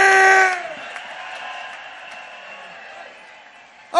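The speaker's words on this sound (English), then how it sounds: "Give them all a big cheer!" A crowd at a Remain campaign rally breaks into a broad, sustained cheer right after a loud shouted voice, the roar of the gathering holding steady for several seconds before dipping at the end.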